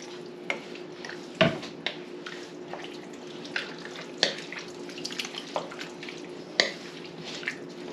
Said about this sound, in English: I'm just gonna add some of that water in.